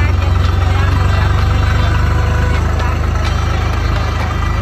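A Swaraj 744 tractor engine idles loudly and close by, a steady throbbing diesel chug that holds constant throughout, with faint voices in the background.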